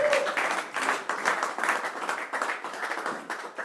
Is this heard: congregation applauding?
yes